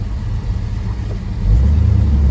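A 1969 Buick GS400 Stage 1 four-speed convertible idles with a deep, steady low rumble, close by, swelling slightly louder about halfway through, with no voices.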